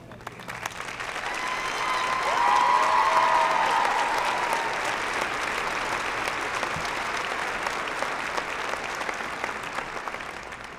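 Sustained audience applause at the 2019 Butler University spring commencement, honoring honorary degree recipients: a dense, steady wash of many hands clapping that swells over the first few seconds and then holds evenly throughout.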